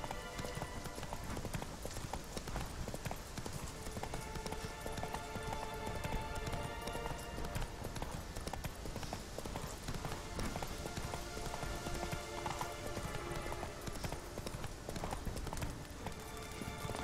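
Roach, a horse in The Witcher 3, gallops in steady rapid hoofbeats throughout, with game music and ambient sound layered underneath.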